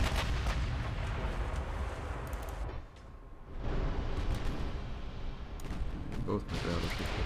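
Naval artillery fire from battleships in Ultimate Admiral: Dreadnoughts, heavy booming gun blasts that come repeatedly over a dense rumbling battle background, with a short lull partway through.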